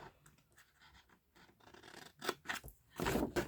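Long scissors trim paper for a holiday paper-craft project in a series of quiet snips and scratchy cuts, soft and close at first and building to louder, sharper snips near the end.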